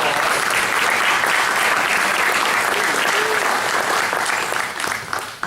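A hall of fame audience gives a loud, dense round of applause that holds steady for several seconds before tapering off near the end.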